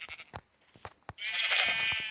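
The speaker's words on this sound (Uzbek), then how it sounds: "Mana, qora qo'y." Black sheep bleating in a survival video game played in hardcore mode: a few short clicks, then one sustained, fairly loud bleat that carries to the end.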